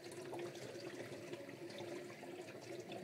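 A pet water bottle is rinsed under a running tap, giving a continuous, even splash and gurgle of water, close up and unbroken, with no voices.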